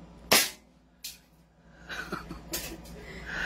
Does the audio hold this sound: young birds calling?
no